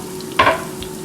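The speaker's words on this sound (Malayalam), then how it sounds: "പച്ചമുളകും ഉള്ളി ചെറുതാക്കി മുറിച്ചതും അതിലേക്ക് ഇട്ട് കൊടുക്കുക." Chopped onion and green chillies hitting hot oil in a pan while cooking dal khichdi, giving one short, close sizzling burst that quickly settles into a quiet background.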